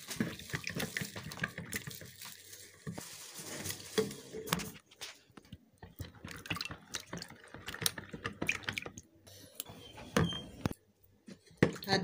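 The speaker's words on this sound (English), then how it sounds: "I'll add it and stir." Homemade Dettol antiseptic solution stirred in a container close by, giving irregular clinks, knocks and swishes of liquid that come and go with brief quiet gaps, with no talking.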